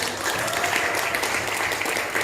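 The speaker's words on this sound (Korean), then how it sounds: "선교사님 뜨거운 박수 한번 하겠습니다." An audience at a church gathering bursts into warm, continuous clapping, a dense crowd applause filling the room without pause.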